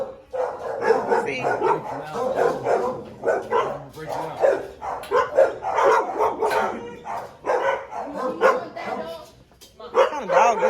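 A puppy barks and yips repeatedly in quick bursts, close and loud, while people talk nearby over the barking.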